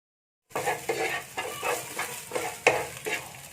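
Eggs with green beans and dried shrimp are scrambled in a pan, a soft sizzle broken by repeated scraping strokes of a utensil against the pan, close and steady with no talk.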